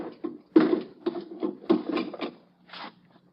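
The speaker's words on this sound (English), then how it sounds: "Just let me slip these bolts." Bolts slid open on a wooden crate in a radio drama, heard as a run of close scraping, rubbing clacks in an uneven rhythm before a short pause and one last slide.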